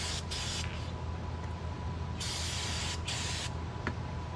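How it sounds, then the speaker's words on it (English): Brake cleaner sprayed from an aerosol can onto brake parts, a steady close hiss lasting the whole clip with a few short breaks. "I'll just kind of go ham with the brake cleaner"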